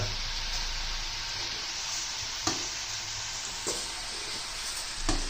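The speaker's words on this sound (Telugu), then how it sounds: "రైస్ వేస్తున్నా, చూడండి. రైస్ వేసినాము." Rice is tipped into a pan of frying vegetables for vegetable biryani, a steady loud sizzle running throughout with a few brief stirring scrapes and knocks, no talking.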